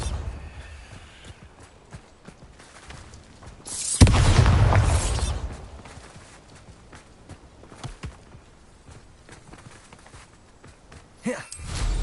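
A single heavy Bombarda blasting-spell explosion in Hogwarts Legacy, a loud booming burst that swells and fades over a second or two amid quieter footsteps and ambient game sounds, with a smaller thump near the end.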